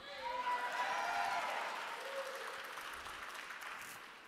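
Applause from a conference audience for a talk, a steady wash of clapping that swells early and then slowly tapers, with faint voices mixed in.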